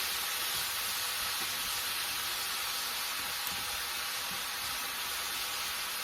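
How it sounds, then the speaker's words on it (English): Chopped onion sautéing in a hot pan for a Marry Me Chicken dish, giving a steady, even sizzle that holds constant throughout without talk. "just get your onion down in the pan where it can start sauteing"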